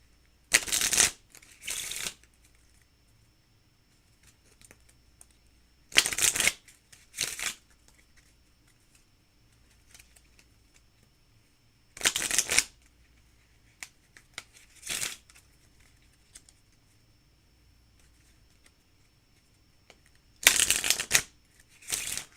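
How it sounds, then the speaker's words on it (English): A deck of playing cards is shuffled in repeated short bursts, each riffle a crisp, close ripple of flicking card edges, separated by quiet pauses, with no talking. "We'll do another round of shuffle."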